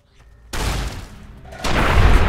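Two loud gunshot blasts in Fallout: New Vegas, each a sharp burst followed by a rumbling boom.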